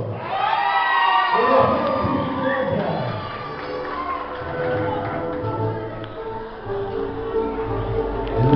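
Guests cheering and clapping during a waltz at a quinceañera celebration, a lively wash of shouts and whoops with applause, loud at first then settling under ongoing crowd noise.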